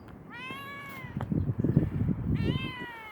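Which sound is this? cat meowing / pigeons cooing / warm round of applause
cat meowing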